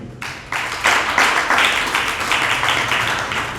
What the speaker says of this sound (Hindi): इस पर ताली बजी है